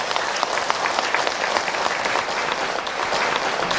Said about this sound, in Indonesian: Tepuk tangan dulu, Bu.